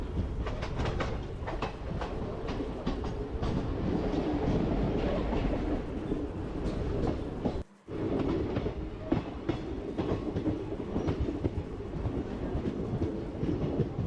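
A passenger train running on tracks near Khammam railway station, its steady rumble and clickety-clack continuous and fairly close, with a brief dip partway through.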